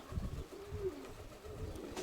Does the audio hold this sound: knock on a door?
no